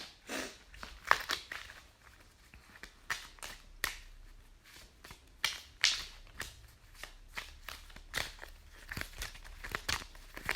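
Tarot cards being shuffled by hand in a quiet room, a run of close, crisp riffling bursts and soft slaps that come in irregular clusters for about ten seconds with brief pauses between them.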